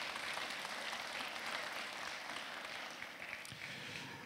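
At a university engineering school's anniversary ceremony, a crowd gives quiet, distant-sounding applause as an even wash of clapping lasting the whole few seconds, with no one speaking.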